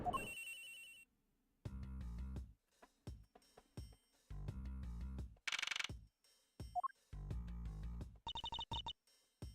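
A mobile phone ringtone in the Ace Attorney Investigations video game plays in repeated bursts of electronic tones separated by short gaps, loud and clear with no talking.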